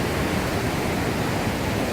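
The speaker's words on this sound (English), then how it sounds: "There's one of the heads of the waterfall. Alright. And there's the main head of the waterfall over there." Blakiston Falls roars as a dense, continuous wash of falling water, loud and close with no pauses and no voices.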